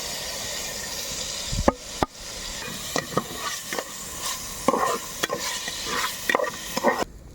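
A spoon scraping and stirring through crushed green chilies and spices in a biryani pot, with repeated scrapes and clinks over a steady sizzling hiss, close and moderately loud.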